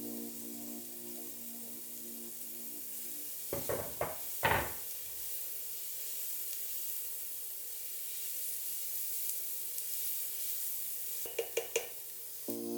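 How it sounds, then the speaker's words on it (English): Minced garlic and soft, translucent onion fry in a pan with a steady, quiet sizzle, broken by a few sharp clatters of a utensil against the pan near the start and again near the end. "Once the onion becomes soft and translucent, add the minced garlic."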